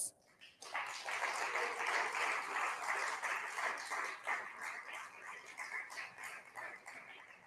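An audience at a PrideTT fifth anniversary media launch breaks into sustained, fairly close applause that swells quickly and holds steady for several seconds before thinning slightly, with no talk over it.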